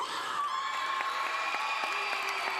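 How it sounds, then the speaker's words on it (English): Canned applause and cheering played at a high school commencement ceremony, a short burst of steady crowd clapping mixed with bright whoops and cheers, fairly soft and evenly sustained throughout. "make your own clap and cheer for me"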